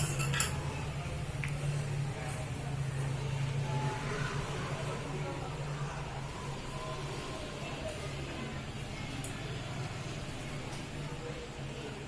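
Egg vermicelli is mixed in a small pan, with a continuous soft scraping and rustle of utensil against metal, steady and close over a low hum.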